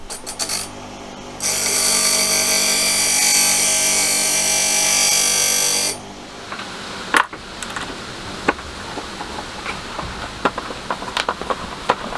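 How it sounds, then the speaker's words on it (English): A power tool grinds the end off a metal part in a small workshop shed, a loud continuous high-pitched whine lasting about four seconds, followed by scattered clicks and knocks of handling. "So I'm just going to grind the end off those, so we've got no chance of it coming out the front."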